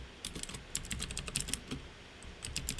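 Fast, light keystrokes on a computer keyboard patter in quick irregular bursts, close and fairly quiet, with no voices.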